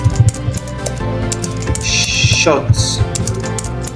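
Rapid keyboard typing clatters close and steady for the whole stretch, running under a speaking voice.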